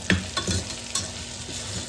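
Whole black peppercorns and spices sizzle and crackle in a pot of khichdi on the stove, with a few sharp stirring scrapes over a steady frying hiss.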